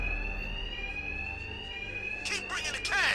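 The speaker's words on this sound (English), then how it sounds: "Two-Face's thugs won't hear me over the alarm." A steady electronic alarm rings continuously inside the video game Batman: Arkham Knight, loud and unbroken, with bursts of other game sounds near the end.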